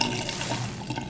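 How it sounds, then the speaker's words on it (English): Water squeezed and dripping from a soaked, heavily dyed knitted tee pressed gently by hand without twisting, a steady close wet trickle and splatter with no voices. "squeeze out some of the water without twisting"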